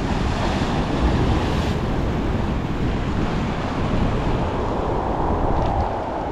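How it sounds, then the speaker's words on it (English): Ocean waves crash steadily against rocks on a beach, a dense, continuous roar of surf and wind with no voices, loud and close throughout. "the waves crashing"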